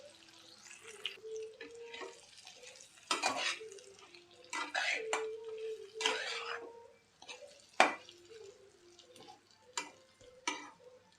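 Masala for stuffed capsicum being sautéed in a pan, with a spoon scraping and clinking against the metal in irregular bursts and a soft sizzle underneath.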